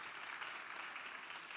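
Faint, distant applause from a Korean church youth congregation congratulating a newly ordained pastor, a soft continuous wash of clapping hands.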